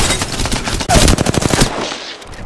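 Rapid automatic gunfire from the video game Apex Legends rattles loudly and close in a dense burst of shots, then trails off into lighter noise at the end.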